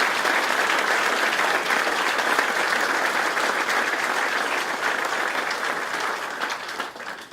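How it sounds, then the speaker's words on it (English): An audience at an I-69 highway interchange opening ceremony gives a sustained round of applause, a dense wash of clapping that stays steady for about seven seconds before easing off at the end. "I want you to give them a round of applause for their work"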